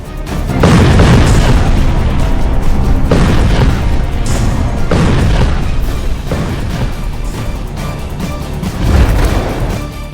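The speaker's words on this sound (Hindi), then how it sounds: "तुर्की का ये super bunker buster bomb 7 metre के कंक्रीट को भेद कर आगे बढ़ता है और फिर धमाका करता है" Turkish super bunker buster bomb detonating after punching through thick concrete, heavy booming blasts rolling one after another, loud and rumbling with long decaying crashes and no voices.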